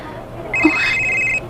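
A cellphone rings once with a bright, steady electronic tone lasting about a second over a quiet room background.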